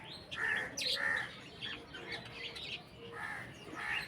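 Cockatiels in a colony give several sharp, close chirps and squawks from a nest box where one is brooding eggs, bursts spaced irregularly over a faint background.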